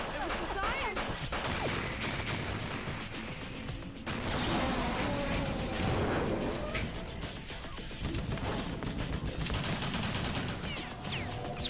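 Rapid assault rifle fire in a video game, dense bursts of shots mixed with crashes and impacts, loud and continuous with a voice talking over parts of it.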